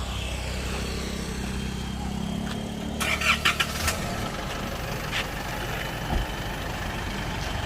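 An Isuzu pickup truck with cut leaf springs and a lowered rear starts up, then its engine rumbles steadily outdoors while the truck is moved, with a few brief clunks and knocks partway through.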